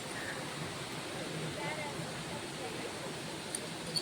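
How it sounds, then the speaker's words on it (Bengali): Waterfall on the road to Lachung in North Sikkim gives a steady, faint, broadband rushing roar that holds evenly throughout, with a couple of brief clicks near the end. "এখানে ওয়াটারফলসে আর দেখতে পাচ্ছ বন্ধুরা কত সুন্দর ঝর্ণাটা"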